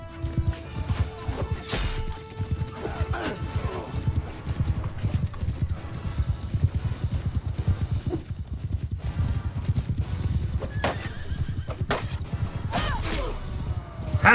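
Horses gallop in Mount & Blade II: Bannerlord, a loud, dense and continuous drumming of hoofbeats from several mounts, with a brief whinny near the start.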